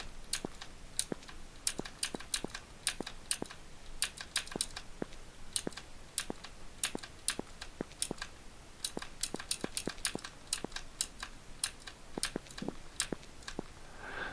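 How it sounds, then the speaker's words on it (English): Crisp, irregular key clicks from a mechanical keyboard, close and fairly quiet, with brief pauses between short bursts of typing and no voices. "tapping of the keys for the beautiful mechanical keyboard noises"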